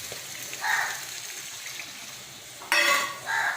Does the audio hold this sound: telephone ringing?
no